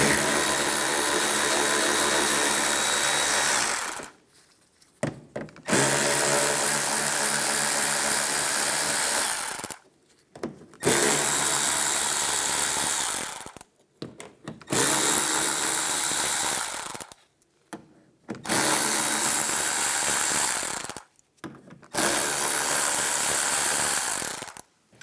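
A power tool with a 7mm socket backs screws out of the side of a Lincoln MKC bumper, whirring loudly in six bursts with brief silent gaps between them.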